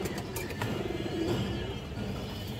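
Pigeons cooing at a market stall, a soft continuous murmur of low coos filling the background with no talk, steady and moderately close.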